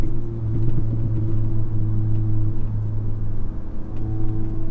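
An EQT-tuned Audi S3 drones along a backroad with a steady, low engine hum and road rumble, holding a constant cruising tone with no voices.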